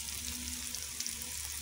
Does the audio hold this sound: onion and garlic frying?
yes